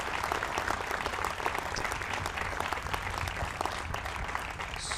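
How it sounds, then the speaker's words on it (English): Audience at a Marion County commissioners meeting applauds the award nominees, a steady, dense wash of many hands clapping that holds evenly for the whole stretch, fairly close and full. "Let's give a round of applause for everybody who's nominated."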